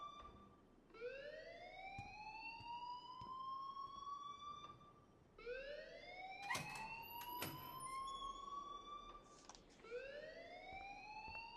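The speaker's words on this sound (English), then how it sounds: "please turn off that alarm since that's your job" A school fire alarm in the video game Life is Strange wails in repeated rising siren sweeps, each whoop climbing and then cutting off before the next begins, loud and steady with no talking over it.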